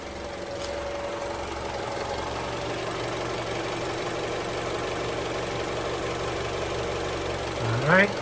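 A Mazda CX-7 2.5L engine, just back together after a head gasket replacement, runs at a steady idle close by, with an even low drone and light ticking throughout and a brief louder swell near the end.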